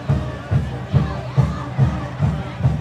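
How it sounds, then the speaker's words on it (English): A high school football crowd cheering in the stands during a night game, rhythmic waves of shouting voices rising and falling in repeated bursts about every half second. "We still have a great crowd here tonight."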